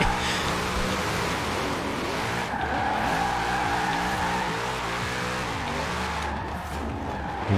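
Video game car tires squeal and skid in long sustained screeches during a drift in Forza Horizon 4, with an engine revving steadily underneath, close and continuous throughout.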